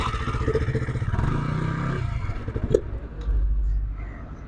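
A motorcycle engine idles and burbles nearby with uneven throttle changes and a few clanks, then settles into a low rumble.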